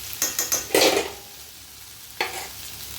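Vegetables cook in a pan with a few quick utensil scrapes and a burst of clatter as a lid is set on, then a softer clink after a pause; close and fairly quiet.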